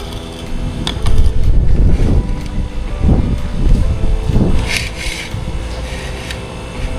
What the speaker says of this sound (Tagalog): Dito tayo sa labas kasi mahangin po dito.